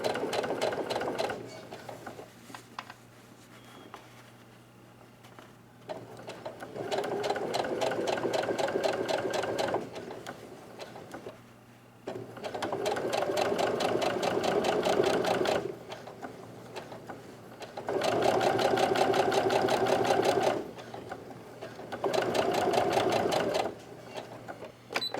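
Sewing machine stitching a curved face mask seam, running in several sustained bursts of steady motor whir separated by short pauses, close and loud throughout.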